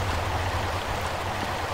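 Lara Croft plunging into water in the 1996 Tomb Raider game, heard as a steady rushing, splashing wash of water that stays loud and even for the whole moment.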